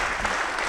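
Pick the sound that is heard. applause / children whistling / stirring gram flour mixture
applause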